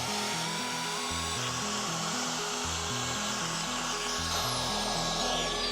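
Hole saw on a power drill bores into concrete for an outdoor kitchen build, a steady, continuous grinding whine with a harsh rasp, close and unbroken throughout, no talk.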